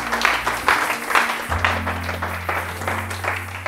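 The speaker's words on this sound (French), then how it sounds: "Non, acclame la parole. Acclame." Church congregation applauding in broad, sustained clapping that rises in waves, with a low organ or keyboard drone held underneath.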